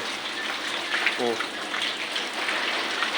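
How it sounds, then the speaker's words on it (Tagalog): Steady, dense rain hisses throughout, with a brief voice faintly heard beneath the downpour. "Maghapon na ulan, walang tigil."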